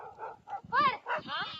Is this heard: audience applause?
no